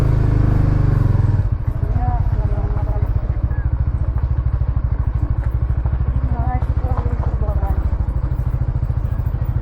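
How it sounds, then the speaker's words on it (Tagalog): A Motorstar Caza motorcycle engine labors steadily uphill in a low, pulsing throb, loud and close, with wind noise at first and brief speech over it. "Kaya-kaya ng motor natin yan"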